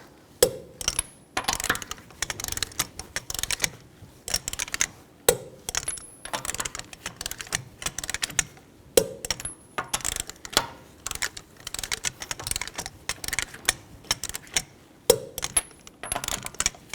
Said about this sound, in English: Now torque the lug nuts down to 80 foot-pounds in a cross pattern or star pattern